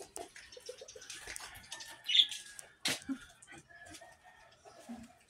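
Caged pet parakeets chirp and squawk in short, scattered bursts, with one sharper cry standing out, all fairly faint against a quiet room.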